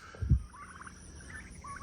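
Domestic turkeys in a backyard poultry flock give a single short, loud gobble near the start, followed by quieter farmyard bird sounds.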